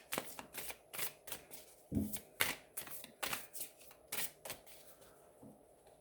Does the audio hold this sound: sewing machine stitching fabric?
no